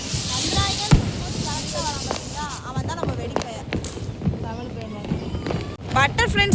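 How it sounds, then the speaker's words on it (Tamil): During Deepavali celebrations, a butterfly firecracker goes off close by, crackling and popping in scattered bursts while family members talk and call out over it. "பட்டர்ஃப்ளைன்னு சொல்லிட்டு ஒரு வெடி இருந்துச்சு. ஆனால் வந்து தவளை மாதிரி குதிச்சு விளாண்டுட்டு இருக்கு."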